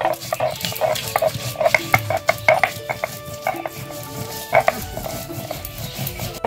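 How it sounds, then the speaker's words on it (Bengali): Green chillies are ground on a grinding stone for a fish recipe, producing close, rhythmic scraping and knocking strokes mixed with intermittent high squeaky tones. "বেটে নিব কাঁচা লঙ্কা"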